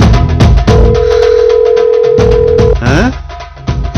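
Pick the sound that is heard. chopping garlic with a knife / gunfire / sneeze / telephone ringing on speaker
telephone ringing on speaker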